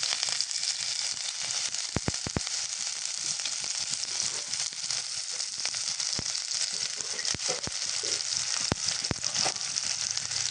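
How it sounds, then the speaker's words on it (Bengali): Sliced onion and green chilli fry in oil in a kadai, giving off a steady, even sizzle with scattered light pops and crackles throughout. "কেটে রাখা সামান্য কাঁচামরিচ, এটাকে আমি খুব সুন্দর করে ভেজে নেব"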